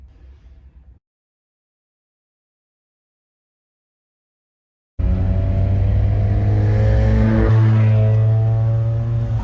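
A 1994 Land Rover Defender 90 engine starts in after a brief low rumble and a few seconds of silence, then runs loud and close with a steady, deep revving drone that rises slightly toward the end.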